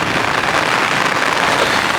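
Steady rain pouring down in a rain forest, a dense continuous hiss of drops close by with no voices, even and unbroken throughout.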